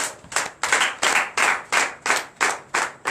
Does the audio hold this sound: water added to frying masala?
no